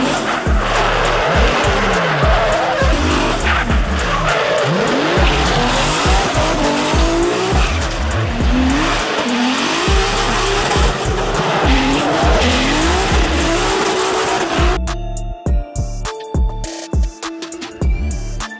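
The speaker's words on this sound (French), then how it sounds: "La E36 de Adam Elzy." BMW E36 drift car sliding with long, loud tire squeals over a screaming engine, sustained for many seconds before cutting abruptly to quieter broken noise near the end.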